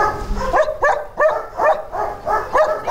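A police dog, a German Shepherd, barks close and loud in a steady series of about seven sharp woofs spaced roughly evenly over a few seconds.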